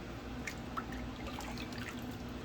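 Faint, close water dripping and trickling into a sink while shaving lather is rinsed off, with a few soft drips over a low steady background.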